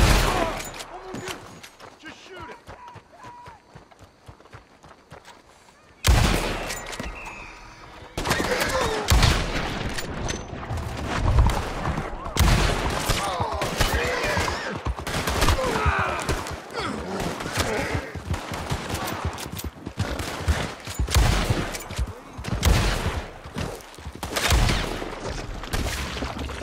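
Rapid gunfire from Red Dead Redemption 2 crackles in dense volleys of sharp, close shots over roughly twenty seconds, following a quieter opening with scattered sounds, while voices talk in the background.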